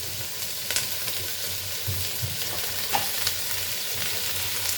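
Onion frying in rendered pork fat, with no added oil, for Goan pork pulao, gives a continuous close sizzle, broken by occasional scraping stirs and soft clinks.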